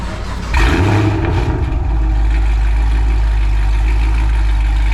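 Chevrolet Camaro SS V8 with a new exhaust idling with its valves closed, starting with a brief rev surge that settles into a steady, deep, loud low rumble, close by with no talk.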